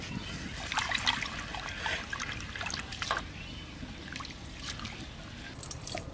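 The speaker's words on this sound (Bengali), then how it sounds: "ডালটা ধুয়ে নিই পরিষ্কার করে" Lentils (dal) are rinsed by hand in water, giving soft close trickling and sloshing with a few light splashes at a low level and no talking.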